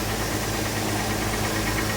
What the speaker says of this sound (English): Engine sounds like it's doing fine.